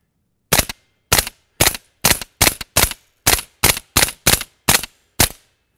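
A suppressed-sounding firearm empties a whole magazine outdoors in snow in twelve sharp, muffled reports. The shots come close together in an uneven rhythm, each ending in a quick decay, with no voices.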